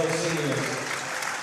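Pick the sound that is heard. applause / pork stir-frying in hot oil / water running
applause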